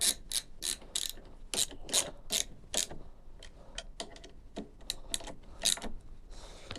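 Ratchet clicking as bolts are tightened on a Royal Alloy GP300 scooter handlebar, fitting brake lever clamps; repeated bursts of sharp pawl clicks, close and moderately loud, with short pauses between strokes.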